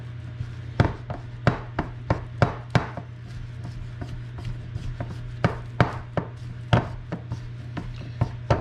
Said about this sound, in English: Get everything mixed up, get all the dryness out of there.